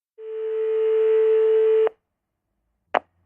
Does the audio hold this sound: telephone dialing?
yes